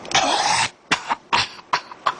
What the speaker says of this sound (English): and then you cough